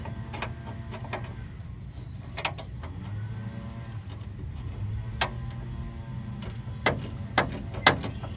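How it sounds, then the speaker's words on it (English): A ratchet tightening the nut on a radius arm bushing, driver side, on a vehicle: short bursts of quick metallic clicks, close by, separated by brief pauses and a few sharper knocks. "ratchet up on there"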